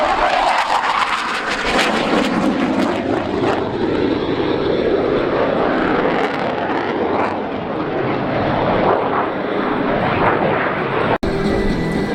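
An RAAF Hawk 127 jet trainer flying an aerobatic display at the Avalon Airshow, a loud sustained jet roar that sweeps in pitch as it passes and pulls into the circuit, with faint commentary underneath.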